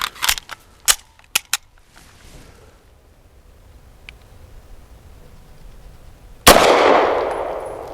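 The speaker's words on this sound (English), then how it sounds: "I am getting a lot of muzzle ride with each shot, but it's not unpleasant." Pistol shots from an FB Radom Vis 100 M1 firing Federal 138 grain synthetic jacketed hollow points: several sharp, loud cracks in quick succession, a quiet pause, then one final heavy report with a long ringing decay.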